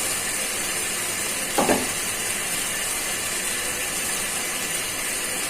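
Turmeric, cumin and coriander powders with sliced green chillies being sautéed for a bottle gourd and tomato curry, giving a steady close sizzling hiss throughout with one brief louder scrape of stirring partway in.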